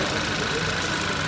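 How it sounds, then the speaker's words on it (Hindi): A 2023 Hyundai Verna turbo variant's engine runs at a steady, close idle with a continuous low hum and mid-range drone throughout the short clip, with faint background murmur. "ये टर्बो वेरिएंट जो टर्बो है उसका इंजन की आवाज़"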